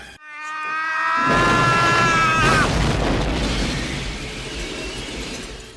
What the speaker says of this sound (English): Chuck Norris shows up and blows him up with a rocket launcher